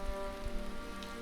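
Soft rainfall in a video game, a faint, steady patter of drops heard alone over a low, quiet background.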